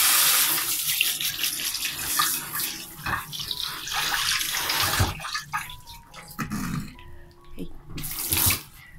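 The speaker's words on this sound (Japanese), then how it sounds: "ちょっと水で洗おうかな" Tap water runs steadily into a sink while chrysanthemum flowers grown in a home garden are rinsed, a close, continuous splashing stream with brief interruptions and a short spoken word.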